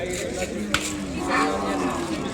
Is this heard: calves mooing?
yes